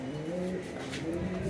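Lahori and racer pigeons coo steadily and close at hand, several birds overlapping in soft continuous throaty calls with no talking.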